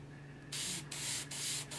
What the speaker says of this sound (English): Spray that through till I get the brown color coming out of it and not just the orange that was in the head.